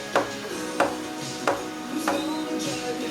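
A spoon stirs mojo pulled pork in a pot, making four or five evenly spaced knocks and scrapes against the pot over a low background hum, close by, with no talking.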